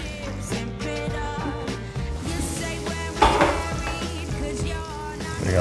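Butter sizzles in a hot pan for a mushroom risotto, a soft frying hiss beneath clinks and clatter of utensils and cookware, close by.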